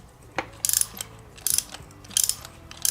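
Socket wrench ratcheting on a spark plug of a Vulcan 1600 Classic motorcycle: three close, crisp bursts of rapid clicking, evenly spaced, with a faint low hum between them and no talking.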